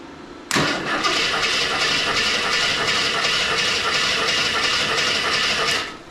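An old Jeep Wagoneer engine cranks and catches after a short quiet lead-in, then runs loudly and steadily close by before cutting off at the end.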